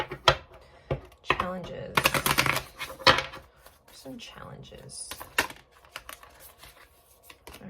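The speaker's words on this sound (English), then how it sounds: "Actually, okay, I need to shuffle." Tarot cards shuffled by hand in quick papery riffles and flicks during a love reading, close and moderately loud, with a person talking intermittently over the shuffling.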